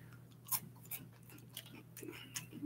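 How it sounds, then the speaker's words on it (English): Someone crunches on a snack from a Japanese snack box, a series of soft, close crunchy bites spaced irregularly against a quiet room with a faint steady hum. "and she crunches something too."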